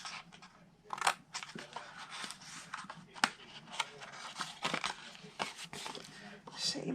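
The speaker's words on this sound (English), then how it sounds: "we're going to cut apart the bottom, rectangle straight, take a little wedge out of the squares." Scissors snip through paper for a moose-themed gift box, cutting a rectangle and wedges out of squares. Crisp clipping and crinkling sounds repeat unevenly, close by, with a voice present.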